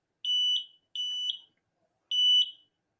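An Escort Redline 360c radar detector gives three loud, high electronic beeps, each a pair of quick tones, spaced apart with silence between them.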